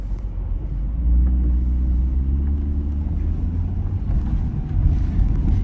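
A car being driven, a steady low engine and road rumble from inside the cabin with some wind noise, continuous and fairly loud throughout.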